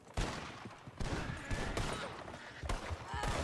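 Sharp gunshots ring out during a Red Dead Online duel, a string of loud blasts arriving every half second or so with echoing tails, fairly close and dense.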